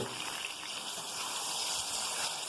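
Water poured into a cooking pan while making sweet corn upma, a steady continuous gush and splash lasting throughout, fairly close and alone without talk.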